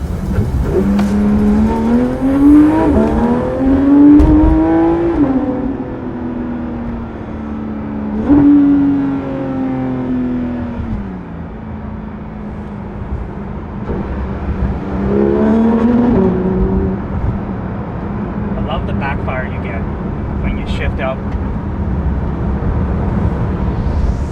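Porsche 991.2 GT3 RS flat-six revving at full throttle, with several sharp climbing wails and gear changes followed by a steady cruising drone, loud and close, no talking.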